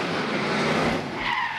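The Mount Shop Rattler Mustang GT500 drift car, driven by Shane Allen at a D1NZ pro qualifying round in Tauranga, skids with a loud continuous tire squeal and engine roar, rising slightly near the end.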